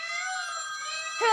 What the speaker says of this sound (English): Oh, sorry, that's the phone. That's a phone.